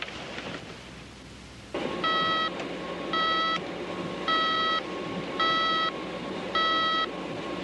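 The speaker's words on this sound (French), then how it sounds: "J'ai reçu un signal d'alarme." A steady background hum gives way to a repeating electronic alarm, five evenly spaced bursts of high, bright beeping, close and clear.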